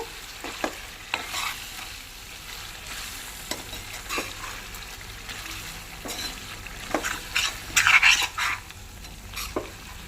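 Chicken fries in a pan with garam masala, sizzling steadily while a spoon stirs and scrapes at intervals, the clinks and scrapes close over the continuous hiss.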